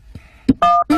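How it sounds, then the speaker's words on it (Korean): Telephone keypad tones as a number is dialed: a short series of steady two-tone DTMF beeps, close and fairly loud, with no talking over them. "잠깐 있어봐. 전화 좀 걸고."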